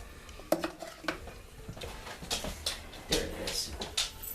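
Plates and cutlery clatter in a kitchen while pot roast is served, with sharp clinks and scrapes of metal on dishware in irregular bursts, close and moderately quiet.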